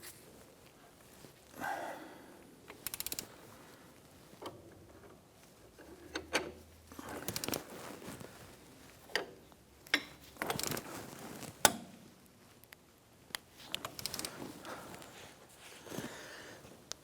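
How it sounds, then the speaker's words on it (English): A wrench works a bolt on the front steering knuckle of a 2011-2021 Jeep Grand Cherokee, producing scattered metallic clicks and ratcheting clatters in irregular bursts, fairly quiet, with brief handling knocks between them. "So we're going to put our wrench on that."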